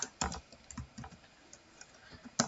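Computer keyboard keys clatter in quick irregular bursts while code is typed, close and crisp, with short pauses between clusters of keystrokes.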